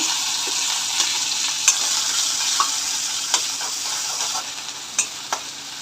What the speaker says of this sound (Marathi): तेल गरम झालेलं आहे आता आपण मिरची जिरा आणि लसूण चेचलेलं होतं ते टाकून देऊ